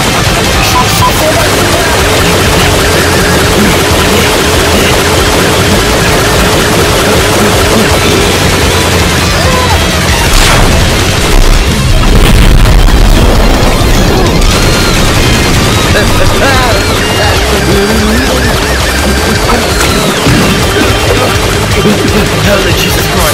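Sustained machine gun fire rattles on without a break, loud and dense, with booming impacts and crashes building toward the middle under a busy mix of effects, in an animated movie action scene.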